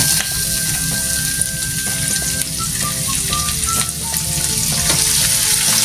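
Chicken feet fry with onion and garlic in a pan, a loud steady sizzle that carries on without a break under faint background music.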